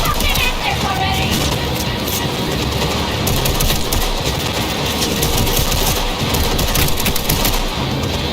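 A car engine strains in Cyberpunk 2077 during a chase. It runs as a loud, continuous rough roar mixed with rapid gunfire bursts throughout, with shouting in places.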